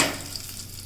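Curry leaves drop into hot oil for tempering, with cumin already in the pan, and set off a loud, steady, close sizzle that rushes up at the start and then holds level.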